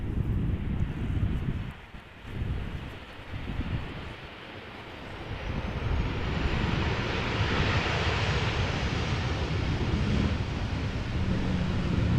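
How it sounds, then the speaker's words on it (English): A 12-year-old KLM Boeing 737-800 landing in gusty crosswind at Amsterdam Schiphol after a flight from Birmingham: a distant jet roar that swells into a sustained, loud rush, mixed with wind buffeting the microphone. "It is a Boeing 737-800 arriving from Birmingham"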